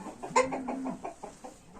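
A rooster clucks in a quick series of short, bright calls at close range, with a brief sustained squawk near the start.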